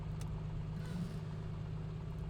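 An A2A Comanche light aircraft's piston engine idles steadily at low RPM in MSFS 2024, a constant low drone that stays even throughout with no talk.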